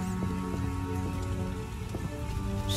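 Steady rain in The Witcher video game, falling continuously as an even, dense patter that fills the whole stretch, fairly loud and close, with no talking over it.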